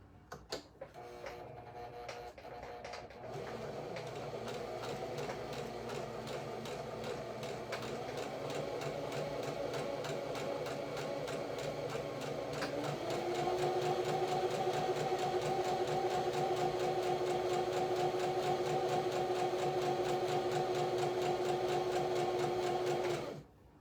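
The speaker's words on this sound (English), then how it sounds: "do some more gathering stitches over here" A sewing machine runs steadily and continuously while gathering stitches on a dress, its hum rising in pitch and loudness partway through, with no talking.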